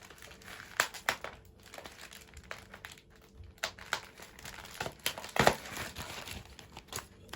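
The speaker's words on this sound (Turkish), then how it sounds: "Bu poşeti de açalım." A plastic bag from a shipping package for a wireless rechargeable Bluetooth and USB mouse is opened up close, giving irregular crinkling and rustling bursts with no talk.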